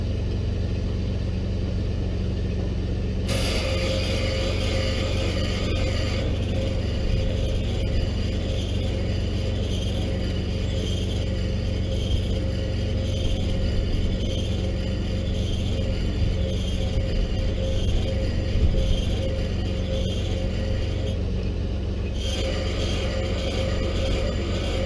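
Custom-built tracked vehicle with the left track being braked while it spins, giving a steady mechanical rumble with grinding, ratchet-like gear noise that holds for about twenty seconds, no talking.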